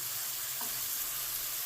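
Sardine heads frying in coconut oil, giving a steady, even crackling sizzle, close and continuous, with no other sounds over it.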